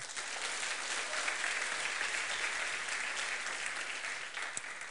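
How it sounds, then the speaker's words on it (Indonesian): Church congregation applauding during a sermon, a steady sustained wash of many hands clapping together at even loudness, moderately distant, with no speech over it. "Tepuk tangan yang dahsyat."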